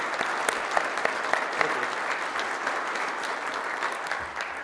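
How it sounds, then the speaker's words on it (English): Sustained audience applause at an electric-vehicle competition awards ceremony, a dense, even wash of clapping from a sizable crowd that stays steady for several seconds with no voices over it. "Please give them a round of applause."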